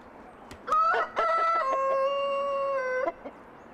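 A rooster crows loudly and close by, a long drawn-out call with a few short clucks around it.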